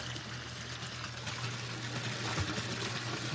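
Water from a 45-foot well runs out of a pipe in a steady, faint, continuous rush with light trickling, and no one speaks.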